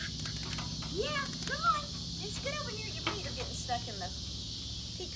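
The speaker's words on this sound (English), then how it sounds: "All the locusts just making lots of noise." Locusts make a dense outdoor insect chorus, a continuous buzzing and chirping bed with scattered bird-like calls on top, moderately faint and steady throughout.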